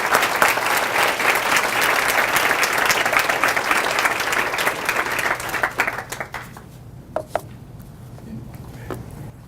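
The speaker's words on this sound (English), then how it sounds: "let's have a clap before we can ask questions" A studio audience gives a dense round of clapping that fills the first six seconds, then thins out and fades to a few scattered claps.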